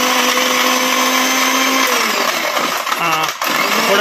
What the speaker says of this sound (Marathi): बघा मिक्सरमध्ये आपण हे बारीक करूया.